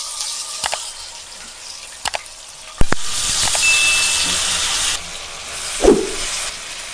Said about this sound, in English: Now I am going to add the marinated pieces to the oil.